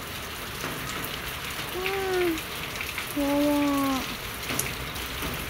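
Heavy rain pours down in a steady, loud broadband hiss while a cat stranded up on a ceiling meows twice, drawn-out cries close by.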